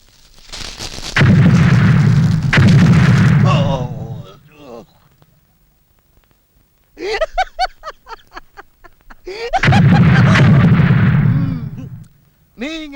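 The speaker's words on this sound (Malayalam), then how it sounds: "നീ ഇങ്ങനെ വെടി പൊട്ടുമ്പോ ഞെട്ടാൻ തുടങ്ങിയാലോ" In an old Malayalam comedy film scene, a gunshot or firecracker blast comes as two long, loud booming bursts of several seconds each, separated by speech.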